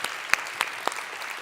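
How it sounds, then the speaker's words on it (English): A conference audience at a Women in Analytics keynote gives a brief round of applause for the organising team, heard as a faint scatter of a few distinct claps over a soft background wash. "Just a quick round of applause for the WIA team for putting the conference together."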